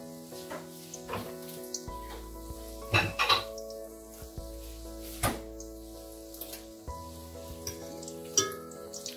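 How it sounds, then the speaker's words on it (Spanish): Small salt cod fritters fry in hot oil, a low steady sizzle running under scattered clinks and knocks of utensils and pans, with a couple of louder clatters midway and near the end. "Freímos uno chiquitín y lo probamos de sal."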